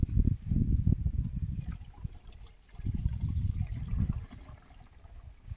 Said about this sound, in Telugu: తేటగా తేలినటువంటి జీవామృతం. పోయడం జరుగుతుంది.